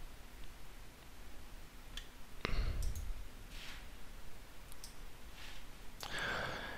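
A few sharp, isolated clicks from a computer mouse sound close against a quiet room hiss, spaced irregularly with one heavier thump between them.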